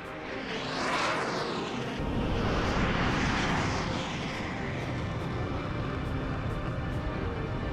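Fighter aircraft roar past in a dramatized combat scene, a loud continuous jet rush swelling and sweeping through two passes in the first few seconds, then holding as a steady dense engine wash with no talking.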